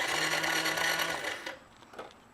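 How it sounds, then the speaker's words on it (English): A Kawasaki KLX110 dirt bike's starter cranks the engine with a fast, whirring mechanical buzz for about a second and a half, then cuts off, leaving faint clicks and handling noises. "So now I'm going to hit the ignition button."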